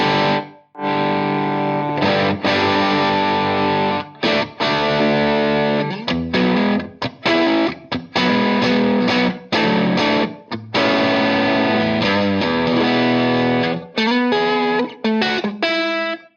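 Electric guitar played through a mini amp on its overdrive setting with the gain turned down, giving a mildly driven, in-between clean tone; loud strummed chords and riffs ring out in short phrases separated by brief stops.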